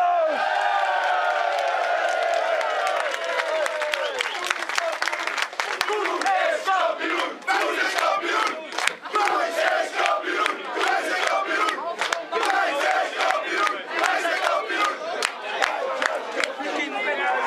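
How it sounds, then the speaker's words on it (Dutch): A large crowd cheers and shouts loudly at a football club's championship celebration, with a dense burst of clapping building after the first few seconds and continuing steadily to the end. "Geef ze een vreselijk applaus!"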